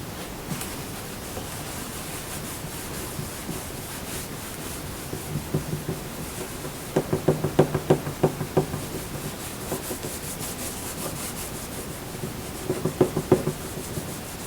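Rubbing and light scrubbing on the wooden body of a 1956 Kay Aristocrat archtop guitar while cleaning grime off, a soft continuous friction with louder bursts of quicker strokes, close by and without talk.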